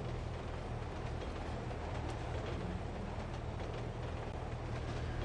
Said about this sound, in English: Oh, trains are fast. Just hear it.